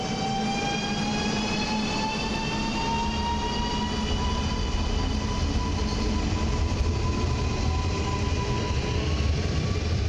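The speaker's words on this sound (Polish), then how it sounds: "WKD taki tramwaj podmiejski" A WKD suburban light rail train runs at Warsaw Ochota's low platform, a steady loud rumble with long whining tonal notes gliding slowly upward throughout, with no voices.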